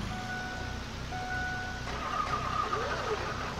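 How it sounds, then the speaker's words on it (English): A truck engine in Farming Simulator 19 cranks and catches into a steady mid-range idle, with thin tonal beeps above, fairly close and moderately loud throughout. "Pull this up, spark the truck up,"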